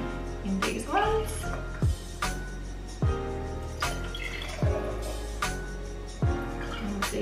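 Melted raspberry jam, thinned in hot water, is poured into several glasses for margaritas, giving a run of short splashy pours and drips with light clinks, close by, under a faint background voice.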